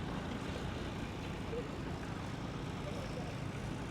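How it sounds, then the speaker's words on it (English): A John Deere 6R tractor ploughing at a ploughing match, heard as a steady, dense engine drone that stays constant throughout. "Just dropping in with the John Deere 6R."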